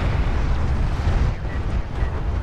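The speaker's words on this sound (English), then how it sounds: "the method of choice here seems to be to fire barrages on that hill" Artillery barrages pounding a hill in a strategy video game, heard as a continuous loud rumble of distant explosions with faint pops over the top.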